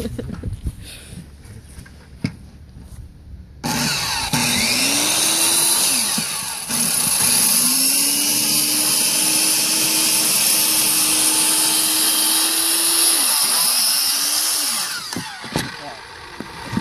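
A circular saw cuts wall sheeting for an A-frame shed, starting abruptly with a loud, sustained whine that holds steady for about ten seconds, dips briefly, then winds down, heard up close.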